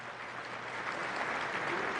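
A brief, steady wash of audience applause fills a conference plenary hall, moderately distant and even, with no voices over it.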